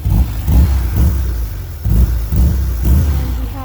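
A 1973 VW Bug engine running up close, loud and rough, revving in repeated pulses of roughly half a second with short dips between them.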